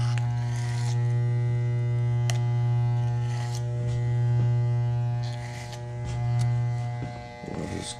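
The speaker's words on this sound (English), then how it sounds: "I love this clipper. I need this. I need to be using this." An electric hair clipper buzzes steadily and close by in a barber shop, its drone swelling and easing slightly as it moves through a fade haircut.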